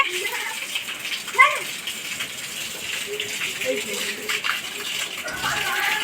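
Water gushes steadily from an electric household water pump motor, a continuous broadband rush at close range with children's voices and an adult talking over it.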